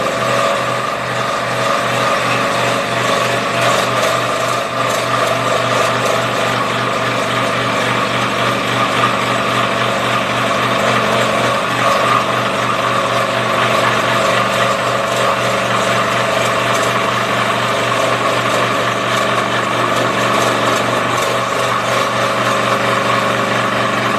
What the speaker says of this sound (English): I'm going to start first with the scroll saw.